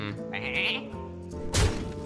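A single bleat from a powered-up sheep card in the Hearthstone card game, a short mid-pitched bleat in the first half followed by a low game thunk and sparkle effect near the end.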